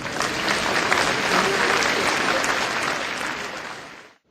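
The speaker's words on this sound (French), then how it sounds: "Je crois qu'on peut les applaudir bien fort." Audience applause at a New Year's greetings ceremony in a French town hall setting, dense and sustained clapping throughout that fades out at the end.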